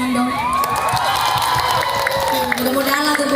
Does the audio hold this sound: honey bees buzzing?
no